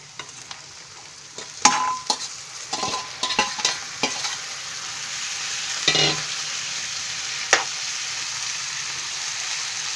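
Half a kilo of ghevda flat beans is tipped into hot oil tempered with spices and turmeric and stirred: a loud, steady sizzle with scraping stirs and clattering spoon knocks early on, then a single sharp clank near the end.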